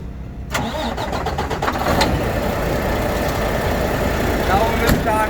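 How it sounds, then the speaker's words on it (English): A Class 1 truck's engine cranks briefly, catches and settles into a steady, loud idle, heard up close. "Okay, so first I will start the truck."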